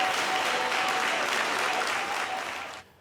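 Steady applause fills a podcast recording for about three seconds, a dense even clatter of clapping that fades out and stops near the end.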